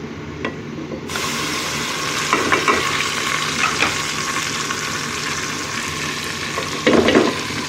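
Steady sizzling of garlic and ginger frying with lightly browned onions in a pan, with a few clinks and stirring scrapes partway through and a louder burst of sizzle near the end.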